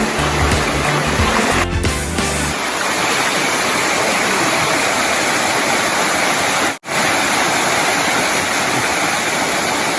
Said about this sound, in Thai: น้ำตกก็สวยนะครับ